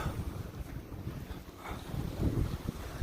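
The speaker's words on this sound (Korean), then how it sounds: "바람 부는데 더웁다 여러분" Outdoor wind buffets the microphone in a continuous low, rumbling roar that swells and eases slightly, fairly loud, with no speech.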